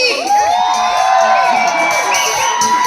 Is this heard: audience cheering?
yes